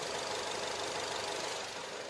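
A Renault Samsung SM5 Impression with a well-kept 2.0 engine idling with the hood open, a quiet, smooth, even hum with no talking.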